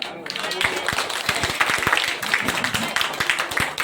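Audience clapping at an Independence Day eve flag-hoisting ceremony held by former soldiers, a dense, sustained round of applause with sharp individual claps near the front, steady throughout.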